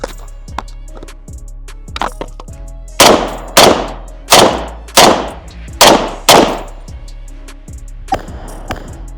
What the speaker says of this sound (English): We're gonna shoot each target twice.